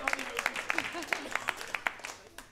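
Scattered, sharp hand claps from a small comedy club audience in Berlin ring out in an uneven rhythm, mixed with talking and laughter-like voices.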